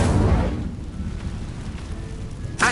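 A fiery Incendio spell effect from a video game: a loud, rumbling whoosh of flame bursts at the start, settles into a low, sustained roar, then flares sharply again at the very end.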